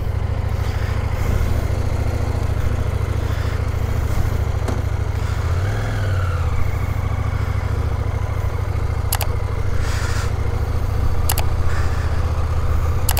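A fully loaded CFMoto 800MT adventure motorcycle rides along with a steady, loud engine drone and wind rush that hold throughout, with a brief rise in engine pitch midway.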